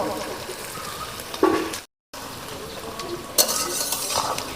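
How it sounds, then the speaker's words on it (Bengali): Chopped onions with a pinch of salt sizzle in a pan for a village-style desi chicken curry. A steady close frying hiss is broken by a brief silent gap, and stirring scrapes swell around it. "এবারে দিয়ে দেবো কুচনো পেঁয়াজ।"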